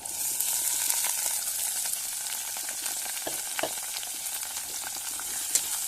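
Onions and green chillies sizzling in oil for a masala chana dal curry, a steady dense frying hiss with occasional sharper pops and crackles, close and continuous, no voices.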